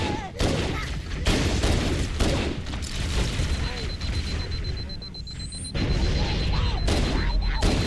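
Grenade blasts in Halo: Combat Evolved, several loud booms and bursts of gunfire amid dense combat noise, with short quieter gaps between the heavy hits and a voice talking over parts of it.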